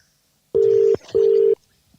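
Telephone ringing on an outgoing call, two loud even bursts of ring tone separated by a short gap, clear and close with no talk.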